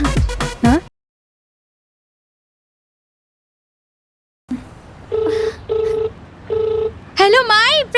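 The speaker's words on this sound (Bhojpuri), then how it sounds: "तू माई के फोन लगावा ना" A phone call being placed to a mother: after a brief voice and a long silence, four evenly spaced ringback tones sound close and clear, then another voice begins.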